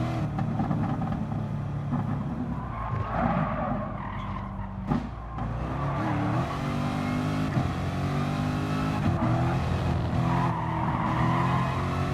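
A Corvette race car engine roars continuously in Gran Turismo Sport, revving and shifting through gears with brief tire squeal, another car close behind, loud and steady throughout.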